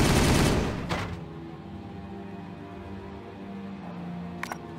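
Gunfire in a Warhammer 40,000 game, a loud, dense burst of rapid shots at the start cutting off after about a second, leaving a low ambient rumble and a couple of faint clicks.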